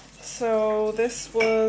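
Someone washing up dishes produces clinks and clatters of cutlery and crockery in the background beneath someone speaking close by.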